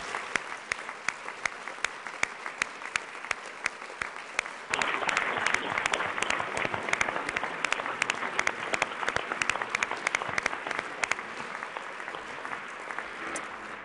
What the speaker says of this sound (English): Let us give another round of applause to this very brave man and the family that represents him.